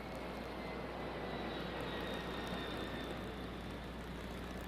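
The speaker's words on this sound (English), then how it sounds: "Let me wait till the plane flies over." A fixed-wing airplane passes overhead outdoors at an evening pageant event, its broad engine roar steady and sustained throughout, with no talking.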